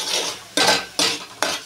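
Spoon scraping and clinking in a pan of frying masala for a soybean curry, three quick stirring strokes with a faint sizzle underneath, close and fairly loud.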